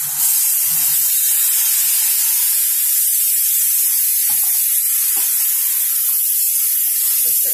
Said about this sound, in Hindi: फिर आप ये दूध और पानी गरम हुआ वो डाल लेंगे।